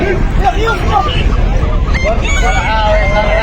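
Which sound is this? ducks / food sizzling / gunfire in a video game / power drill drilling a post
ducks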